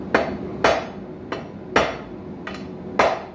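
Hammer blows ring out on hot steel at an anvil while a wall hook is forged, six sharp metallic strikes in an uneven rhythm, close and loud with no talking.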